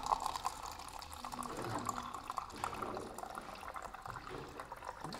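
Water is poured into a drinking glass at a table, a steady liquid trickle lasting several seconds, close and moderately loud over a quiet room.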